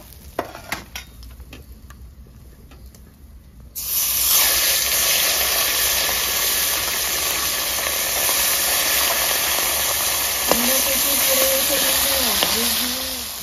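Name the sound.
fish head frying in oil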